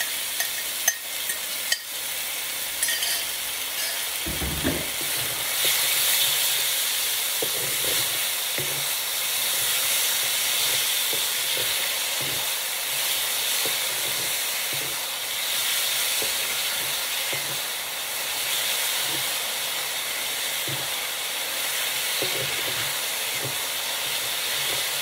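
Marinated pork for bao buns frying in a pan, with a steady, loud sizzle and hiss throughout and occasional stirring clatter near the start.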